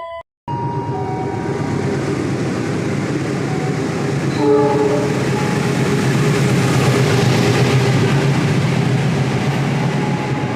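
The Bima passenger train from Gambir to Surabaya Gubeng in Indonesia rumbles steadily past close by, its horn sounding in a short burst near the middle over the continuous rolling noise.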